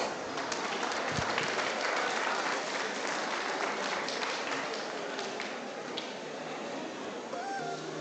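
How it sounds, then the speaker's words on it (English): A crowd at an inaugural ceremony applauds as performers are welcomed, sustained dense clapping filling the hall, fairly distant and even, with faint tonal sounds late on. "Let's welcome our talented performers with a huge round of applause."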